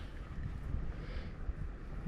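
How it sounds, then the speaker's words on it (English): Strong south wind buffeting outdoors beside a lake, a steady low rumbling roar with gusty swells over a couple of seconds and no voices. "But now I'm noticing a strong south wind,"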